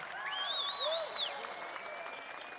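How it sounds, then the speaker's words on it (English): Crowd applause at a pro-life rally in Sydney, a steady dense patter of many hands that fades gradually, with whoops and cheering voices rising and falling over it in the first second or so. "give a big round of applause to them as well"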